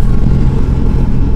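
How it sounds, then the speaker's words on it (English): Loud, steady engine and intake roar from a GMC Denali truck, a continuous low rumble heard from inside the cab with no talk over it. "Yeah, I hear that intake in here. Yeah, it's pretty loud."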